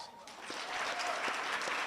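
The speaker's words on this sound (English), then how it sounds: "A round of applause for our hosts." Audience applause at a 2023 evening event, a steady wash of clapping hands filling the room for the full stretch, moderately loud and even with no voices standing out.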